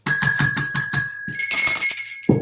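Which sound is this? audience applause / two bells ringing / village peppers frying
two bells ringing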